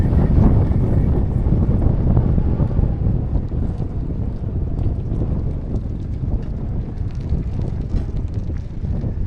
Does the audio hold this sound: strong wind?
yes